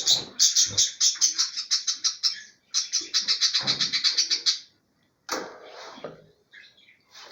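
An albino bird chick calls from inside its nest, giving rapid runs of high, insistent begging chirps in two long bursts separated by short pauses, followed by softer scattered calls and some faint rustling.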